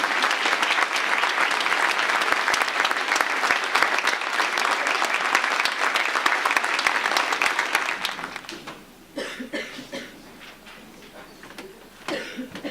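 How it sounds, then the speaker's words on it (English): Sustained audience applause at a 2012 school certificate of achievement ceremony, steady dense clapping for about eight seconds that then thins out into scattered, fading claps with a few lingering bursts. "Let's give them a round of applause, please."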